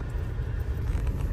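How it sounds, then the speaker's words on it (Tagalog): Low, continuous rumble of downtown car traffic passing nearby, steady and unbroken without voices. "Tingnan nyo yung traffic"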